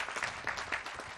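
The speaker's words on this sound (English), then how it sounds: "a round of applause." Brief, faint scattered clapping from an audience at a Navy submarine commissioning ceremony for the USS Illinois, heard from a distance.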